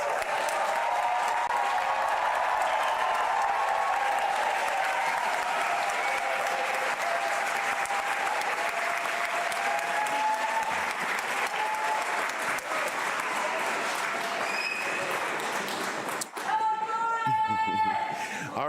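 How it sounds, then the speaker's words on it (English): A large commencement audience at Penn State Brandywine's spring ceremony gives a sustained, dense round of applause that carries on loudly for about sixteen seconds before fading, followed by a brief spoken voice. "please rise and give the class of 2026 one final hearty round of applause"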